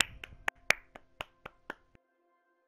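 Hand claps ring out as applause during a Just Cause 3 base raid, about eight sharp separate claps spread over roughly two seconds, then a lone quieter clap at the end, with a faint tonal bed beneath.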